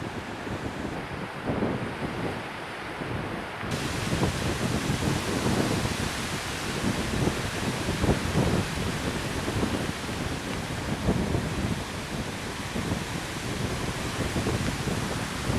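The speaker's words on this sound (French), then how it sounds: "Tais-toi le vent, tu niques mes prises." Sea wind gusts hard into the microphone on the coast of Bréhat, a continuous loud rumbling roar over distant surf with no voices.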